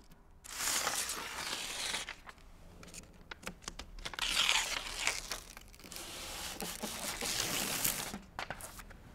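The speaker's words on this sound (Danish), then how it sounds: "Først skal fugerne mellem pladerne forsegles med en passende tape." Sealing tape being pressed and smoothed over the joints between building boards for airtightness, giving bursts of crinkling and tearing with short quiet gaps, close and moderately loud.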